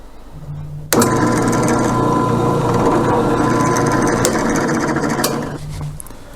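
A router cuts a truss rod channel through the fretboard into the wooden neck of a short scale bass, starting abruptly with a loud, steady high whine and gritty cutting noise for about five seconds before spinning down.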